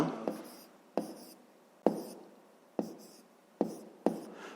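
Pen writing on paper during a math exercise, close and quiet, with repeated scratchy strokes punctuated by six sharp taps as the pen meets the page.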